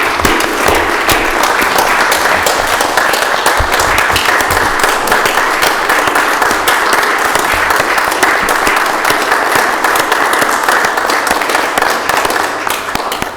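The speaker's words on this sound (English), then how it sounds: "let's give a round of applause" An audience at a county commission meeting claps loudly and continuously for about thirteen seconds, a dense even patter that tapers off at the very end.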